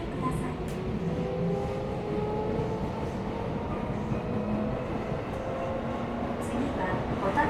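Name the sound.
Tokyo Metro 17000 series subway train running, Yurakucho Line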